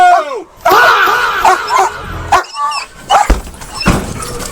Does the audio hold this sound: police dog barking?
yes